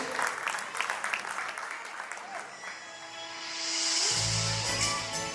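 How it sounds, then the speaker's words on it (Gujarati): Wedding sangeet audience claps for dancers, a moderately loud patter of applause at first that thins out, giving way to sustained music tones and a rising wash of sound. "તાળીઓ વગાડવાની છૂટ જ છે હો"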